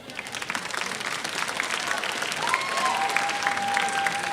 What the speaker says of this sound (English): Now let's have a big round of applause for all our seniors.